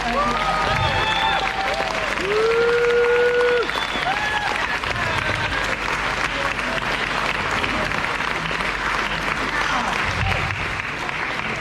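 Sustained audience applause honoring women's world record skydivers at a hall of fame award ceremony, a dense steady roar of many hands with whistles and cheers rising over it, loud and continuous throughout.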